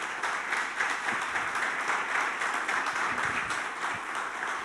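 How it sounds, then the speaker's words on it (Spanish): A church congregation applauds at a worship service, a steady, dense wash of clapping from a large crowd that holds evenly through the whole stretch without a break. "¿Por qué no le das tu mejor aplauso al Señor entonces?"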